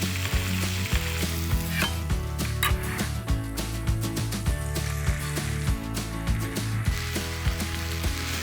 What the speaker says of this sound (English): I like adding in the garlic at about this point so it doesn't burn